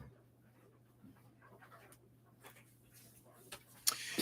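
A puppy pants softly and whimpers faintly against a low steady hum, with a louder burst near the end.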